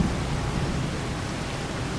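Rain falling in the Farming Simulator 25 video game, an even, dense hiss with a soft low rumble that stays constant throughout, with no voices.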